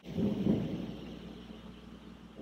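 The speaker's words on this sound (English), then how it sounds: "Thunder." Thunder rumbling outdoors during a rainstorm, a low rolling boom that swells early and then slowly fades into a steady background hush.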